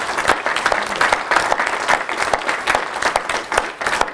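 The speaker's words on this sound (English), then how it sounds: "the applause was somewhat tangled up at the end" Sustained applause from an audience at a university professorial inauguration lecture, a steady dense clatter of many hands with occasional sharper claps standing out.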